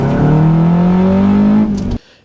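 A Honda Element engine revs through its exhaust, a loud tone rising steadily over about two seconds before dropping away abruptly.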